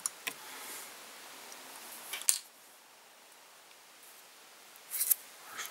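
A few isolated scissor snips trim stray fibers on a Garry Dog tube fly held in a vise. The cuts are close and sharp and spaced seconds apart over a quiet background.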